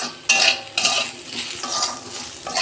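Bitter gourd spiced with a little chili powder is stir-fried in a pan: loud bursts of stirring and scraping come in waves over a steady sizzle, close up and with no talk.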